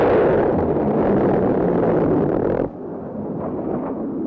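A Skyhawk jet fires its Navy-developed high-peg gun pods during a weapons demonstration at China Lake, California: a loud continuous roaring burst of rapid fire that cuts off sharply, leaving a lower sustained rumble.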